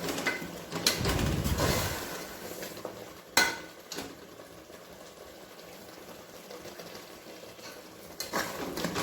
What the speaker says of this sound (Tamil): ஸோ நல்லா ஒரு 2 நிமிஷம் மசாலாவை நம்ம வதக்கிக்கலாம்